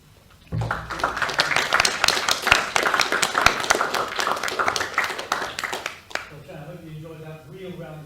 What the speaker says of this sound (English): I hope you enjoyed the real round of applause